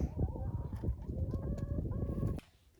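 Backyard chickens pecking at greens, with a big rooster among them, give soft clucks and cooing murmurs close by, steady and overlapping before dropping away near the end.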